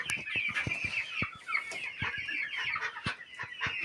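A hen clucks repeatedly nearby in a steady, murmuring rhythm, with a few sharper clucks standing out; the hen is puffed up.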